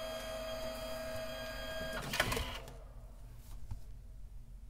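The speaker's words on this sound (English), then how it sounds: "Let's wait for that to print" A compact photo printer runs through a print, its steady mechanical whirring rising into a louder clattering burst midway before settling into a quieter, continuous feed hum.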